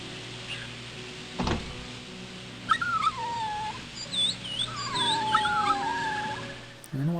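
A dog whimpers in the horror game Rule of Rose: thin, high whining cries rise and fall in several drawn-out bursts over a low droning ambient hum, with one sharp knock early on.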